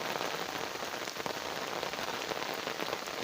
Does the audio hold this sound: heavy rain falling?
yes